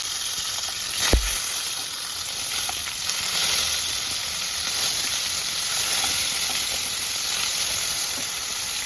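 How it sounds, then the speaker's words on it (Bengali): Pona fish fry in hot oil in a wok with a steady loud sizzle and crackle, a single sharp clack early on, and then an even spitting hiss that continues without talk. "এবার আমি লাল লাল করে মাছগুলো ভেজে নেব"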